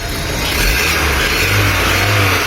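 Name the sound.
Hyundai Milenyum engine revving when given throttle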